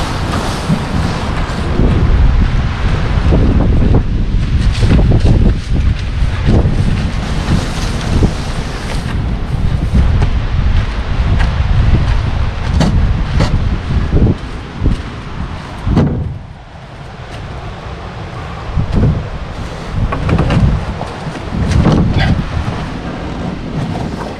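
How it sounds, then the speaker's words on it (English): Strong wind at Cedar Lake in Algonquin Park's backcountry roars and buffets the microphone continuously, with gusts rising and falling and faint water sloshing beneath. "it's windy"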